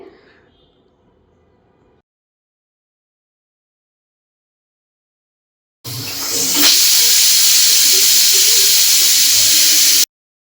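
A pressure cooker cooking tomato biryani lets off a sudden loud, steady steam whistle and hiss that holds for about four seconds after a stretch of near silence.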